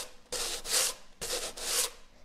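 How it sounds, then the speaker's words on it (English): Sandpaper rasps across a flat painted surface in two long back-and-forth strokes, each a pair of rough scratchy swipes, close and fairly loud. "This is the easiest way of sanding, especially if you have to do it on a flat surface."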